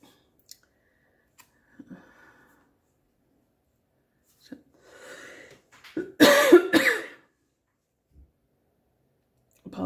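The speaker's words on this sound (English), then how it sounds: "Apologies for my cough there." A single harsh cough bursts out near the close microphone after several seconds of near silence with faint clicks and rustles of pen and paper.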